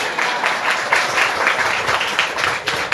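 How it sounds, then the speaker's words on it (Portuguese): A congregation at a Catholic religious gathering breaks into sustained applause, a dense, steady wash of many hands clapping throughout with faint voices mixed in. "Aplaudamos ao Senhor Jesus."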